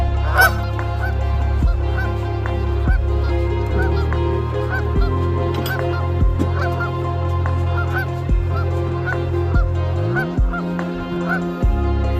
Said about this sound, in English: The geese think this is their spot, apparently.